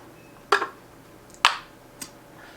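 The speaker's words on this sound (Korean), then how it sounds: "제품을 집어서 이렇게 입에 넣고 어금니로 깨물어서 드셔보세요" An omega-3 fish oil capsule is bitten and chewed between the molars, giving three short, close, soft crunching pops spaced apart in a quiet room.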